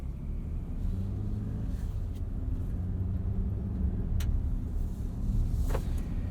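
A 2022 Nissan Frontier SV 4WD crew cab pickup pulling away and driving, its low engine rumble steady and muted from inside the cab, with a couple of faint clicks and no talking.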